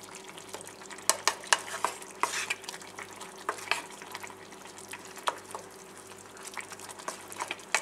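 Spinach and paneer cubes being stirred in a pan while cooking palak paneer, with repeated wet scraping and clattering of the spoon against the pan over a low sizzle.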